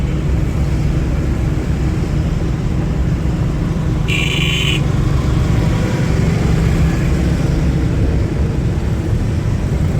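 A car driving on the road in rainy weather, a steady, loud low rumble of engine and road noise with a short high-pitched beep partway through.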